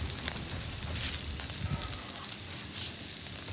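Bacon, sausage and fries sizzling in a pan for jalapeño popper loaded fries, a soft, continuous hissing crackle with faint pops, fairly quiet and steady with no talk over it.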